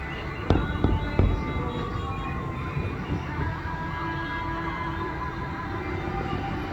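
Fireworks burst over Da Nang's Golden Bay during a June 2023 show, a few sharp booms early on followed by a steady rumble of distant explosions and crowd noise.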